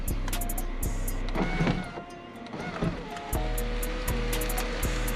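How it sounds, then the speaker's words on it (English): The electric sunroof of a Jaguar XJ6 tilts open with a close-up motor whir and mechanical strain. Sharp clicks and clunks punctuate it, and no one speaks. "So I got the tilt."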